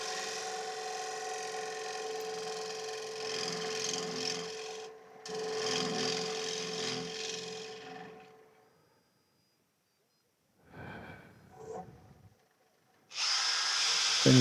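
A hand scraper rasps over a wooden plate in steady rubbing strokes for several seconds, then stops for a pause before a few shorter scraping passes and a louder burst at the end.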